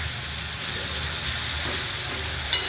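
Capsicum with salt fries in oil in a pan, a steady close sizzle with light stirring and a brief clink of the utensil near the end, no talk.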